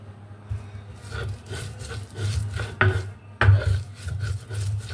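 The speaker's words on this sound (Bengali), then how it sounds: "আমি এটা পাটায় বেটে নিচ্ছি, বেটে নিয়ে পুরোটা পরে আপনাদের দেখাবো।" Food ground by hand on a stone grinding slab (pata), making repeated rough scraping and rubbing strokes in an uneven rhythm, close up and with no speech.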